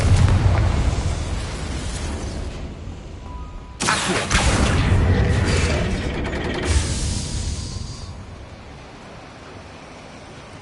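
A Confringo blasting spell goes off in Hogwarts Legacy on PS5: a loud, roaring burst of explosive noise that cuts out, then erupts again into a second long, rumbling blast that slowly fades away.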